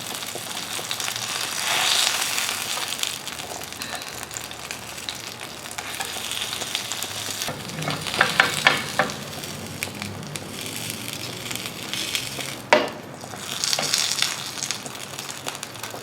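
Paneer pieces frying in a pan with a steady sizzle and crackle, louder bursts as pieces are turned, close and continuous without talk.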